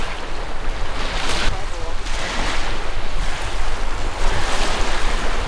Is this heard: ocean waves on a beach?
yes